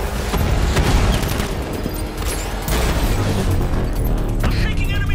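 Enemy gunfire in Batman: Arkham Knight: a dense, continuous barrage of shots and booms with mechanical clatter, loud and unbroken throughout, with a faint voice mixed in.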